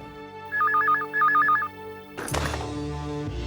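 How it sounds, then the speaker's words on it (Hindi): A telephone rings with two bursts of a warbling electronic bell tone, clear and fairly close, followed by a clattering handling noise, with no talking. "पता नहीं किसका फोन हो।"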